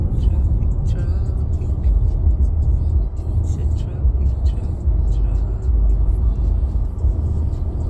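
Road traffic on the way to Napa, California, makes a continuous broad rumble and whir of passing cars, steady and fairly loud throughout with no clear gaps.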